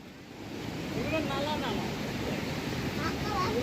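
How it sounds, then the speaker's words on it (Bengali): Waterfall water rushing beneath a small footbridge on a trail in Purulia, a steady broadband roar with a voice speaking faintly over it. "এই যে সাঁকো করা আছে, এখান দিয়ে জল যাচ্ছে, ঝর্ণার জল যাচ্ছে।"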